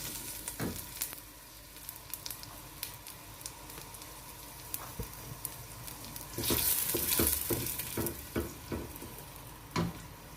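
Onions frying in hot oil for beef nihari, a continuous sizzle broken by scattered crackles and stirring clatter, swelling louder for a stretch in the middle.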